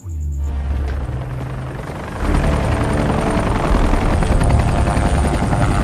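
A helicopter in a film scene, its loud steady rotor roar swelling after a brief quieter start and continuing throughout.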